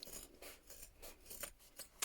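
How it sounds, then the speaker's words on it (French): Scissors snipping through denim jeans fabric while a bag is being made, a series of soft crisp cuts and rasps in a steady rhythm, close and quiet. "j'utilise tes ciseaux"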